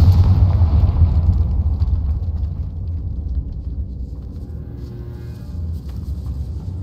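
A Confringo blasting spell explodes in Hogwarts Legacy, a heavy low rumbling boom that starts loud and slowly decays into a lingering murmur.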